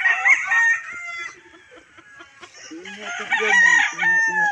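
Chickens cluck and a rooster crows nearby in a domestic setting in Riyadh, Saudi Arabia, with voices talking faintly in the background.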